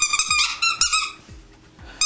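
Rubber squeaker toys squeak again and again during a game show, sharp high squeals in quick bursts that come close and loud, with short pauses between groups.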